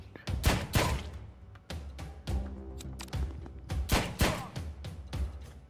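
Gunfire in the action game John Wick Hex: a series of sharp, punchy shots spaced irregularly across a few seconds, with dull thuds between them, close and moderately loud.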